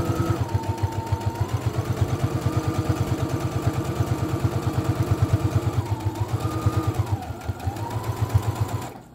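A sewing machine stitches across fabric, its needle chattering in a fast, steady, even rhythm up close, slowing briefly near the end.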